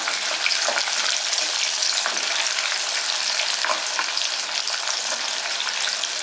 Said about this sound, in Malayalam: അപ്പോൾ ഇതൊന്ന് ഇളക്കി കൊടുക്കാം.